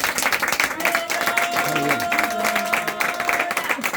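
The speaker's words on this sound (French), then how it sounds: "Est-ce qu'on peut encore acclamer pour ce moment?" Applause and cheering from a crowd at a dowry ceremony in Paris, a steady wash of clapping that carries throughout, with voices mixed in.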